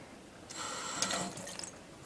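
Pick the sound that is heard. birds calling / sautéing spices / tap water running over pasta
tap water running over pasta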